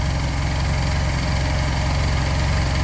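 A Honda SilverWing 600 scooter engine runs at a steady idle with a rhythmic low fluttering from its CVT belt, close and continuous with no voices.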